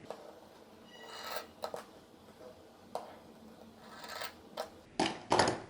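Scissors snipping notches into the seam allowance and corners of a sewn fabric dress, heard as a few short, sharp cuts spaced across the clip, close and fairly quiet, with no talking.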